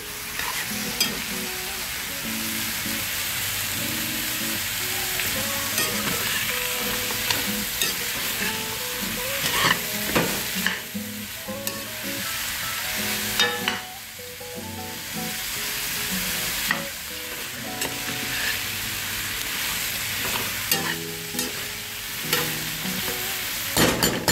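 Trinidad-style pumpkin bhaji with smoked bones cooking in a pot, stirred repeatedly with scraping and sloshing over a constant sizzle, up close and without talk.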